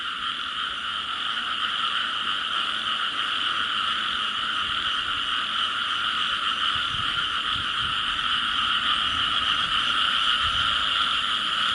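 Frogs croak in a field by a dark roadside at night, a dense, continuous chorus of high trilling calls filling the air evenly at moderate distance, with no voices.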